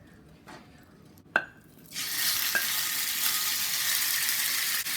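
Ground turkey breakfast sausage drops into hot extra virgin olive oil in a skillet over medium-high heat, a few clinks and a thud giving way to a loud, steady sizzle that continues to the end.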